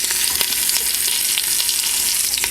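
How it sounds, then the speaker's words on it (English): Beef sears in an Instant Pot with a steady, loud sizzle and crackle, close and continuous with no talking. "Now we'll let those sear for a little bit"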